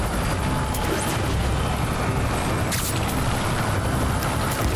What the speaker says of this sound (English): I'm just following this chopper.